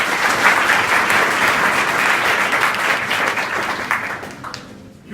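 Students at an inter college in Bilariyaganj applauding, a loud, dense, steady burst of clapping from a large group lasting several seconds before tapering off at the end.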